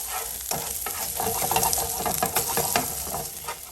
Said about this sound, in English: Stir it around, let the garlic cook up a little bit.